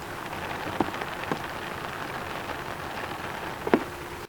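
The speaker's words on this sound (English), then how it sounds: "That's what I love about soft tops. You can hear the raindrops." Rain pattering steadily on the fabric soft top of an MG Cyberster electric roadster, heard from inside the car as a continuous close hiss with a few louder individual drops tapping the roof.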